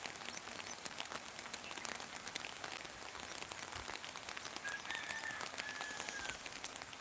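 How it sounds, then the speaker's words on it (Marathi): Steady unseasonal rain patters softly and continuously on farm crops, with a faint bird call briefly audible in the background. "पाऊस चांगल्या पद्धतीने सुरुवात आहे"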